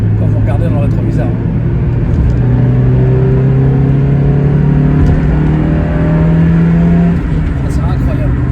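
A Mazda MX-5 with a 110-horsepower engine, converted to run on flexfuel ethanol, accelerates hard, its loud steady engine note climbing in pitch under a continuous roar, heard close from inside the car.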